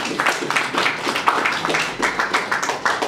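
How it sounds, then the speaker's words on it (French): Applause at an official ceremony marking a handover of command, a crowd clapping steadily with many hands, close and fairly loud, with brief dips in the rhythm. "Applaudissements s'il vous plaît"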